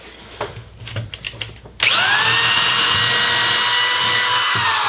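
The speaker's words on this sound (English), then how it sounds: "use this drill here with a 1/4 inch bit to drill on that mark." A power drill with a 1/4 inch bit starts up abruptly and runs at a steady high whine drilling wood, close and loud, after a few seconds of quiet handling noises.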